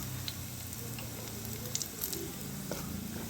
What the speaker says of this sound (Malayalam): അതിനകത്തോട്ട് മുളക് പൊടിയൊക്കെ ഇട്ട് ഒന്ന് വഴറ്റി